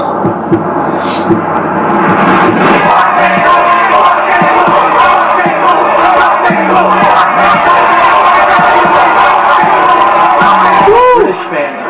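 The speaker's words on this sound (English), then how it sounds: "British fans are crazy. Facts. These guys are going nuts." A crowd of British fans cheers and screams continuously and loudly, a dense roar of whoops and yells that swells after a quieter start and cuts off abruptly near the end.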